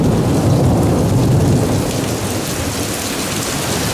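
Heavy rain pours down hard in a thunderstorm during a flash flood, a loud, dense, continuous roar of water hitting the ground with a deep rumble underneath and no voices.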